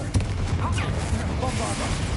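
Confringo fire spell blasts burst in Hogwarts Legacy, a quick run of rough, crackling impacts close up and fairly loud, mixed with voices and game noise.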